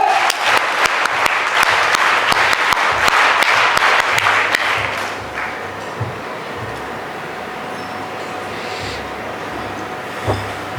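An audience at a school investiture ceremony and Toastmasters grand finale claps in dense, sustained applause for about five seconds, then it dies away into a quieter hall with scattered small sounds.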